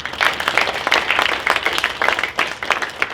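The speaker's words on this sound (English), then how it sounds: "let's give them a really big round of applause." Audience at a poetry reading gives a warm round of applause, dense steady clapping throughout, fairly loud and close with no speech.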